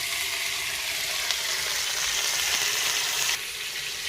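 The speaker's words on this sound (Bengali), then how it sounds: "ভাজা আলুগুলো দিয়ে দেব" Fried potatoes go into a hot pan of oil for a Bengali biryani, giving a steady, close hiss of sizzling frying that holds evenly throughout with no voices.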